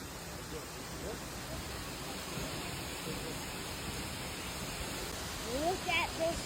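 An Icelandic waterfall beside a mountain gives a faint, distant, even hiss of falling water, with voices briefly audible near the end.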